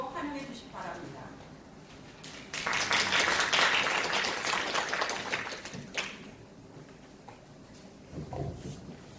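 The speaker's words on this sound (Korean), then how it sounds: "큰 박수로 환영해 주시기 바랍니다" An audience at a civic town-hall meeting claps in welcome, a dense burst of applause that rises, holds for a few seconds and fades, with murmured voices around it.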